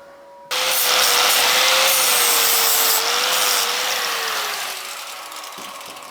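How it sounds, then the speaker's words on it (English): A grinder strips the galvanized coating off steel nuts, starting abruptly and holding a loud, continuous high-pitched whine and rasp whose pitch slowly drops as the tool bears down, during work on turbo manifold studs. "I'm just going to grind the galvy coating off these nuts so they get a better hold"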